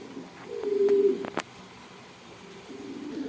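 A pair of Sirazi pigeons cooing, a soft low cooing call near the start with a brief sharp sound after it, then quieter murmuring coos against faint background noise.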